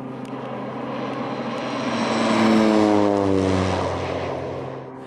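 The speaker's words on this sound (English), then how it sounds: "the 802 isn't a hands-off flying airplane" Single-engine 802 air tanker airplane flying past, a loud droning propeller engine whose pitch slides downward as it swells to a peak and then fades, with no voices.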